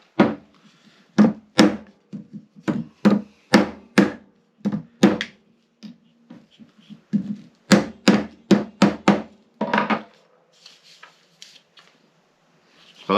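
A seal is hammered into the cylinder of a beer engine hand-pull pump in a garden pub shed, with sharp, close metallic strikes landing in rapid bursts and short pauses between them.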